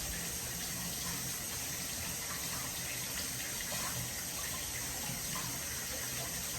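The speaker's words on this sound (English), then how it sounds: "while I rinse off my hands" A kitchen tap runs steadily while hands are rinsed under it, a continuous close hiss and splash of water with no pauses.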